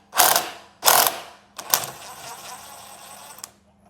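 A ratchet with a 22mm socket loosens a stubborn nut on a Yamaha YFM50 Raptor ATV, giving two short bursts of close, crisp clicking followed by a longer, steadier run of ratcheting.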